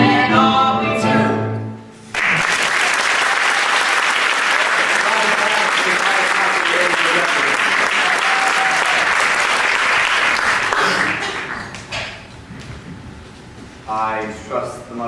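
A theatre audience at a performance of The Mystery of Edwin Drood bursts into loud, sustained applause after a sung number, a dense wall of clapping lasting about nine seconds before thinning into scattered claps as a voice speaks.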